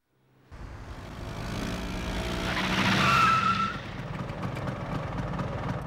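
A motorbike rolls up from silence with a rising engine and a brief high tire squeal, which peaks and then eases into a steady nearby running hum.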